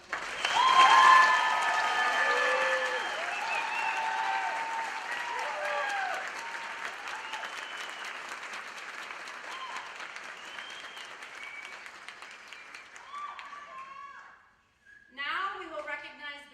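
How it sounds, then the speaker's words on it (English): An honors night crowd at Livonia Churchill High School applauds honored students, a steady wash of clapping that starts strong and gradually thins before fading out, followed by a brief spoken voice. "Please give them all a round of applause."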